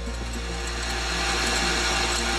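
A drill bores steadily through a metal fire piston part during machining, a loud, close, continuous motor whine with a low hum beneath it.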